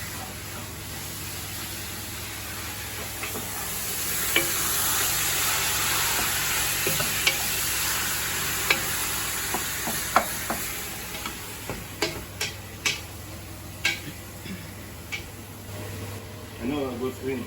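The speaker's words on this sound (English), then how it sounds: "Stir the beef." Beef being stirred in a frying pan for moussaka, a steady sizzle with occasional scrapes and taps of a utensil against the pan, close up and continuous.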